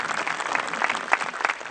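An audience claps together in a brief, dense burst of applause, steady and fairly loud, with no voice over it.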